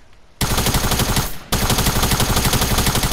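Automatic gunfire in the Fortnite video game: a loud burst of rapid shots, a brief pause, then another sustained stream of fast, evenly spaced shots.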